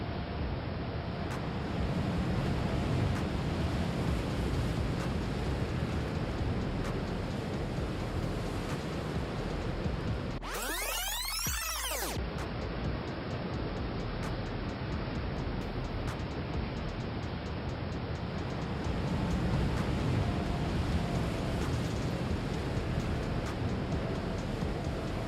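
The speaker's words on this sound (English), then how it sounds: "high winds blowing in from the North Atlantic Ocean generate waves like this" Huge North Atlantic ocean waves, driven by high winds, roar and break continuously with heavy wind rumble, and a brief sharp burst of louder crashing noise comes midway.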